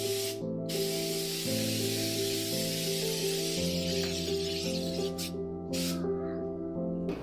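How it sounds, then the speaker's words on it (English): Spray adhesive hisses from an aerosol can onto a wallpaper stencil in long continuous bursts with short breaks, close and steady, over a low background hum. "I prepped my stencil with spray adhesive"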